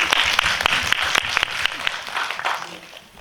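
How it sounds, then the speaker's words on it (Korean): An audience at a film screening Q&A applauds the translator, a loud, dense round of clapping that stays strong for most of the clip before thinning out near the end. "여기서 번역가님한테 박수 한번 쳐드릴까요?"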